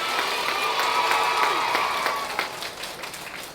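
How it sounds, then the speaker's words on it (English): A crowd of schoolchildren and adults claps and cheers loudly at a school reading event, sustained applause with excited shouts that slowly tapers off. "let's give her a big round of applause and say thank you"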